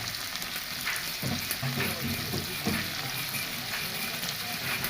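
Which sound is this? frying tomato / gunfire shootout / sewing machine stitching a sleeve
frying tomato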